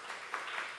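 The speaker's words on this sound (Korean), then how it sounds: "박수 쳐주시기 바랍니다." Church congregation at a Sunday worship service applauding a newly appointed accompanist, a short burst of steady, fairly distant clapping from the pews with no voices over it.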